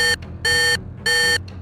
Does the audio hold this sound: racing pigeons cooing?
no